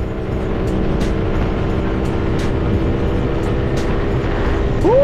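A carbureted Vario scooter engine with carbon racing dual clutch linings revs steadily at high pitch, droning continuously as it speeds downhill, loud and close with no talking.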